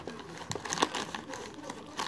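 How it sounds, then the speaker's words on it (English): Soft crinkling and rustling of a plastic bag being cut open with scissors, with a few sharp snips and crackles, close and fairly quiet. "let me just open it with my scissors"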